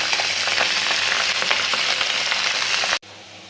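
Pabda fish fry in hot oil in a pan with a loud, steady, close sizzle that cuts off abruptly near the end.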